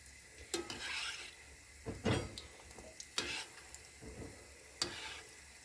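Oil bubbles and sizzles steadily as pieces of eggplant are dropped in, with occasional clinks and stirring sounds from a pan.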